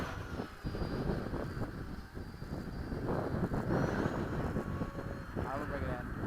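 An FMS 80mm Hawk electric RC jet flies overhead, its ducted-fan whine rising and falling at moderate distance under wind noise and people talking nearby.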